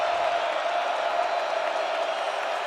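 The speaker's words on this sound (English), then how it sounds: "Here comes the big crowd again at 3rd and 9." A big college football stadium crowd roaring steadily during a third-down play at a Boston College versus Virginia Tech game, a dense continuous wash of cheering and noise with no breaks.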